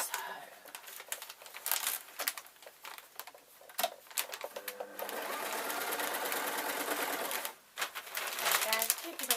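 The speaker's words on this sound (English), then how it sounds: "Line up my pins and sew." A sewing machine stitches waistcoat fabric in a rapid, steady mechanical chatter that starts and stops in bursts, close and fairly loud, with some rustling of cloth and a person talking between runs.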